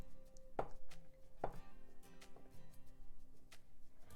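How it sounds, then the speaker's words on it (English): Knife cutting shea butter into small pieces, a few faint, soft chopping thuds heard close up in a quiet room with no talking. "So you want to just cut it nice and small so that it will melt down nicely."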